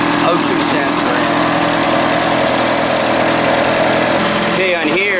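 A 1982 Camaro's engine idles steadily and loud at close range, a continuous rough rumble with a brief shift in tone near the end; a voice talks over it.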